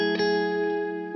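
Electric guitar with the volume knob backed nearly all the way off, giving a clear, bright, crystalline tone: sustained ringing chord tones with a soft pick attack near the start and another at the end, played alone.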